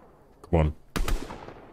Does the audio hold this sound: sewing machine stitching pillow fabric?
no